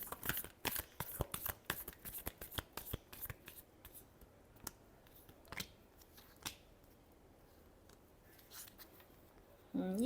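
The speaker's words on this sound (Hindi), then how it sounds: "Last shuffle." Tarot cards are shuffled by hand in quick, crisp riffling bursts, the rapid papery clicks dense at first and then thinning to a few scattered snaps near the end.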